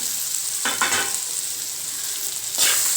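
Ridge gourd peel and grated coconut sauté in a pan while a chutney is being made, giving a steady close sizzle and hiss with a few brief stirring scrapes and no voices.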